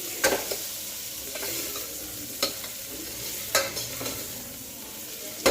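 Tomato and onion frying in a pan for egg biryani, a soft steady sizzle broken by occasional sharp scrapes and clicks of a spoon stirring, close and alone.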